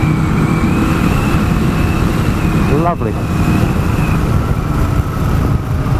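A 1993 Honda CBR900RR Fireblade runs loud and close in a steady, dense engine roar while riding, with a brief dip and a passing tonal sweep partway through; a rider's voice is briefly heard over it.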